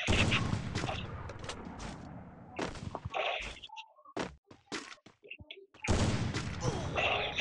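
Bursts of rapid gunfire in the mobile battle royale game Free Fire on Android, loud dense volleys at the start and again near the end, with sparser shots and thuds between.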